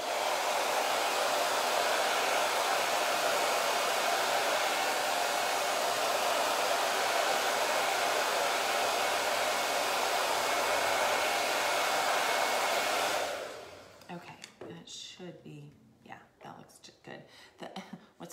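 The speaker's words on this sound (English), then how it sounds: "let me just hit this with the hairdryer really quickly" A hair dryer blows steadily and loudly for about thirteen seconds, drying chalk paste on a custom wooden gift tag, then cuts off abruptly, leaving quiet talk afterward.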